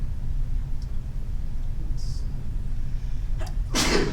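A single sharp sneeze bursts out near the end over a steady low background hum.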